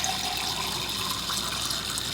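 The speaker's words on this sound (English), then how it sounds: "I'm going to fill this up with water." Water runs steadily into a plastic cup, a continuous close-up hissing splash with no pauses, lasting about two seconds.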